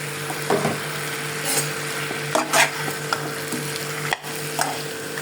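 Pieces of pre-fried fish returned to a pan with onion paste, turmeric and whole green chillies for a light curry, sizzling steadily while a utensil stirs and scrapes in irregular bursts.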